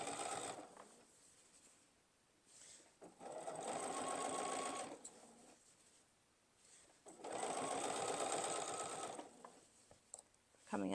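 A sewing machine with a size 80/20 Schmetz needle and standard thread stitches quilt binding in two long, steady bursts separated by quieter pauses; the sound is fairly faint overall.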